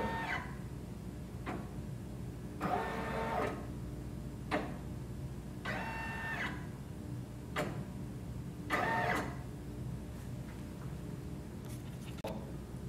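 A Brother PRS100 embroidery machine moves its hoop around the design perimeter, giving soft rhythmic mechanical whirs and ticks in irregular bursts over a quiet hum, close and moderately faint, with no talk.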